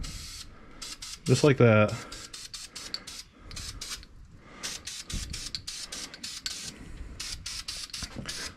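A spray paint can held well back from a 1966 Ford Falcon blasts paint in repeated short bursts, with a steady hiss and brief gaps between them. A person speaks briefly near the start.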